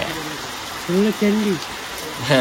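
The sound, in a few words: rain falling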